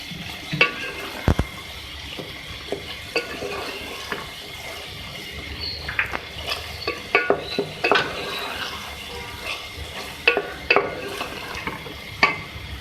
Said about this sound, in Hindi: इसको आप एक दफ़ा मिक्स कर लें सही से।